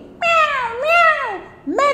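A cat in a children's story meows loudly and close, three drawn-out rising and falling calls that may be a voice imitating the animal.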